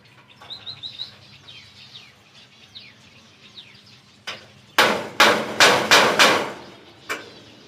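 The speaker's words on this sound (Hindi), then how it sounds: "स्टील की कील से सुराख करता हूँ इसमें।" Hammer driving a steel nail to punch holes, first a few light taps, then a loud run of five or six sharp close blows and a final strike, with birds chirping softly in the background and no talk.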